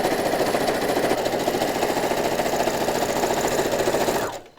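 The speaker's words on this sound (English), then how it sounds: "And I just keep on stitching." A sewing machine stitches fabric strips into mask ties, a loud steady rapid mechanical chatter running continuously close by, then stopping at the end.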